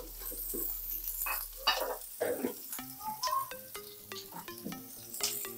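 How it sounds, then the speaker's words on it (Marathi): Prawn curry ingredients tipped into hot oil in a pan, giving a steady sizzle and stirring clatter with scattered utensil clinks, close and moderately loud, no talking. "तेल थोडं गरम झालं की मग त्याच्यामध्ये सगळं टाकू."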